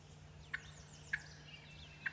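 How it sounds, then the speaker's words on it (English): A hen turkey gives three short, sharp calls spaced about half a second apart, fairly faint and alone over a steady low hum. "This is an actual hen turkey."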